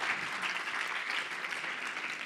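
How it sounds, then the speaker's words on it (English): Warm, sustained applause from a conference audience thanking the speakers, a dense steady clapping that fills the room without pause. "If we can give all a warm round of applause to our speakers."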